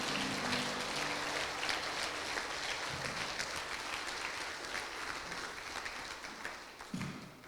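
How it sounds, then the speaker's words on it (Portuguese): A church congregation claps steadily and loudly for several seconds during a worship service, a dense even applause filling the room with a few brief voices and cheers rising near the end. "aplauda o Senhor, querido, bem forte"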